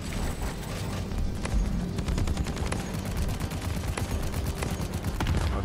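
Steady automatic gunfire in Deep Rock Galactic, a dense, fairly quiet stream of rapid shots with a few sharper cracks, with no voices.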